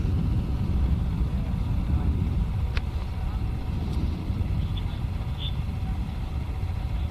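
A Rocket Lab Electron rocket climbs after launch from Virginia, its engine a steady, distant, broadband roar that rumbles continuously without letting up, with voices heard at times.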